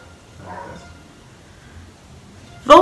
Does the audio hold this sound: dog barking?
yes